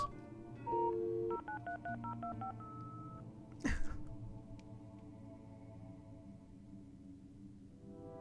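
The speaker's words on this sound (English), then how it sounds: "Now I gotta dial it." Telephone keypad tones sound in the Fran Bow video game as a number is dialed: a quick series of distinct electronic beeps, clear and close, followed by a sharp click and a low background hum.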